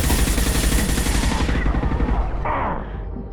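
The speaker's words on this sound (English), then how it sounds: "Taking heavy fire." Heavy, continuous gunfire in a Mass Effect 2 firefight, loud and dense rapid bursts that thin out near the end with a brief tonal flare.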